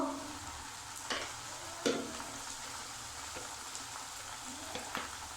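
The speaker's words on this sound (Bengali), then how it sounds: "কাঁচা লঙ্কা কাঁচা জিরে ধনের গুঁড়ো ভালো করে ভেজে নেব" Green chilli paste, turmeric, cumin and coriander powder fry in oil for achari chicken, making a soft, even sizzle with occasional light scraping knocks from stirring, fairly quiet overall.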